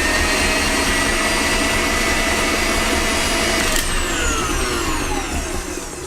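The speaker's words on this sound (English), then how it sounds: "whisk it on high about 1 minute" An electric mixer whisks red velvet cake batter on high speed, a loud continuous whirring motor hum that holds steady and then shifts in pitch slightly toward the end.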